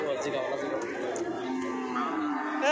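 A young Holstein Friesian dairy cow gives a long, close mooing call at a cattle market, with people chattering in the background.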